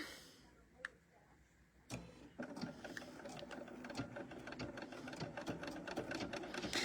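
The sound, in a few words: sewing machine stitching an appliqué blanket stitch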